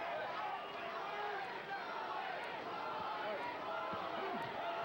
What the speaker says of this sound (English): Crowd starting to chant Louis